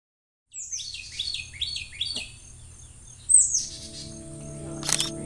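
Bluebirds in a bird garden sing a string of quiet, repeated chirps and short warbles at moderate distance, with a faint low background hum and a brief click near the end.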